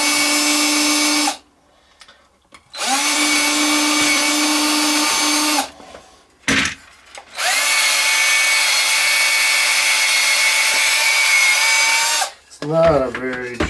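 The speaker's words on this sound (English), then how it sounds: "I'm going to pre-drill 2 holes here on each corner to attach to drive the screws in" A power drill pre-drills holes in wood for screws on a weaving loom frame, with three long loud whining runs broken by short pauses, a brief burst between them, and a faint voice at the end.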